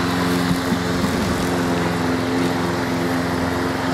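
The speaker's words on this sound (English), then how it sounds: "Stay away from the mower, Jasper." A lawn mower engine drones steadily nearby, a continuous even hum with no breaks and no voices.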